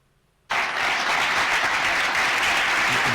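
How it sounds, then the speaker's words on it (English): Talk show studio audience bursts into loud, dense applause after a moment of near silence, the clapping sustained and steady to the end. "They're applauding for us."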